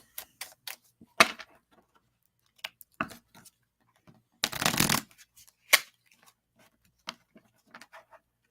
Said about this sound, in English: My shuffling just isn't working right now.